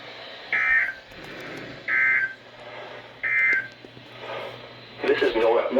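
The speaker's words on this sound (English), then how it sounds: "the National Weather Service has just activated the public warning alarm tone in the test of the" NOAA Weather Radio station WXL58 sounds its public warning alarm tone during a weekly test, with three short, loud, steady beeps spaced about a second apart over a faint radio hiss, followed by a burst of broadcast sound.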